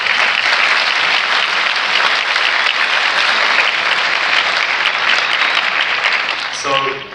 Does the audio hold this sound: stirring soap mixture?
no